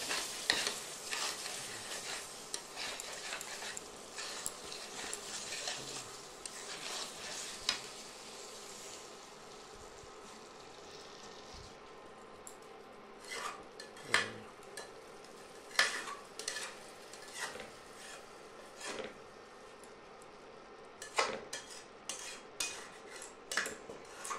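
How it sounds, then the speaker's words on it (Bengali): Chicken curry is stirred in a pot over the heat, with a utensil scraping and clinking against the metal in irregular strokes above a quiet, steady sizzle. "এবার এটাকে নাড়াচড়া দিয়ে দেখতে হবে কেমনি হলো"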